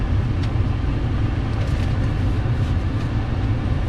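A 2005 Ford Expedition Eddie Bauer's air conditioning fan blows as a steady, broad whooshing roar inside the cabin, constant and fairly loud.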